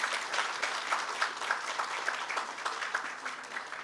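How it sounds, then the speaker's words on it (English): An audience at a cultural heritage panel discussion applauds the four panelists, a steady wash of many hands clapping at close range, sustained and even throughout. "A round of applause for them."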